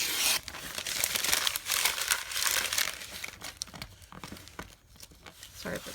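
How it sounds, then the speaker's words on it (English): Paper being pulled off fabric, crunching and crinkling up close in irregular bursts, louder at first and then thinning into scattered crackles. "I noticed that paper sounds really crunchy on videos."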